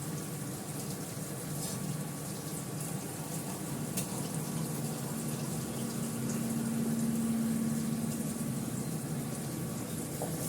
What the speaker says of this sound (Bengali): এবার অল্প করে জল দিয়ে দিলাম